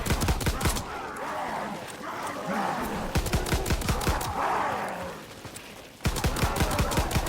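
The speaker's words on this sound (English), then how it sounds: "I am literally just gonna keep shooting them until I run out of ammo" Rapid machine-gun fire rattles at zombies in Call of Duty WWII, with close, loud bursts of evenly spaced shots, one long sustained stream in the middle and a fresh burst at the end, over game noise.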